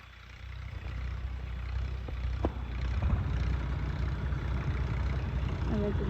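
A tractor engine runs in a farm field with a steady low diesel rumble that grows somewhat louder partway through, heard close up beneath people talking.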